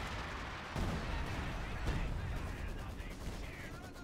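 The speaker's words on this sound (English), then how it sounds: "Base howitzer firing" Base howitzer artillery firing in a strategy game, a dense rumbling barrage of heavy booms and crackling blasts, sustained and fairly distant, with a voice talking over it.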